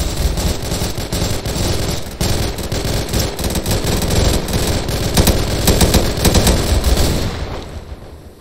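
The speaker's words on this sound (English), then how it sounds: "Open fire on the BMP now!" Sustained heavy gunfire in a Garry's Mod battle against a BMP armored vehicle: loud, continuous overlapping automatic bursts and shots from several weapons, dense throughout with no pauses and no voices.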